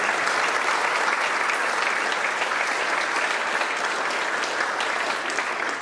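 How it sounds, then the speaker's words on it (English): A full round of audience applause for the mayor at a Regina chamber of commerce event, a thick, steady roar of many clapping hands lasting throughout, loud and even with no talk over it. "he deserves a nice round of applause for what he did in our city"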